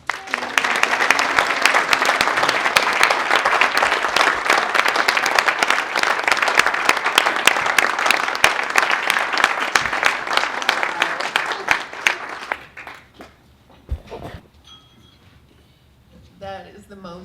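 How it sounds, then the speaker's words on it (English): An audience applauds as an author, Gloria Norris, is introduced at an InDepthNH.org event, dense steady clapping for about twelve seconds before it thins out into scattered claps and quiet room noise. "So I would like to have a round of applause"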